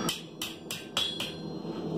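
A hammer flattens hot steel while forging a scorpion bottle opener, landing five sharp, ringing blows at a steady rhythm, close and loud over a constant background hiss.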